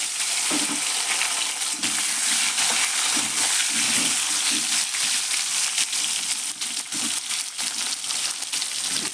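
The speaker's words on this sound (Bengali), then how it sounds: "এবার কলাগুলো ভেজে নেব" Pieces of raw green banana fry in a pan of oil for a fish curry, giving a soft, steady sizzle broken by irregular scraping and crackling bursts at close range.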